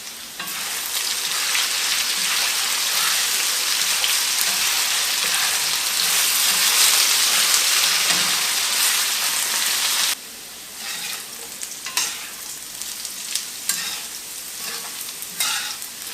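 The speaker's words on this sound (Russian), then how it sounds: "Масло разогрелось. Отправляем сюда картошку. И обжариваем до румяной корочки." Potatoes fry in hot oil, a loud, dense, steady sizzle that drops abruptly to a quieter crackle partway through, with occasional stirring clinks and no talk.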